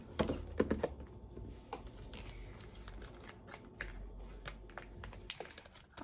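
Small plastic clicks and fiddly handling noises as the SD card slot door on a Canon G7X Mark III compact camera is pried open, a cluster of sharp taps at first, then sparse faint clicks close by.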